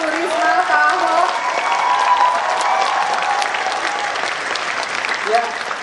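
Audience applause at a youth forum in Jakarta after a panel with public officials, dense sustained clapping filling the room throughout with a voice talking over it.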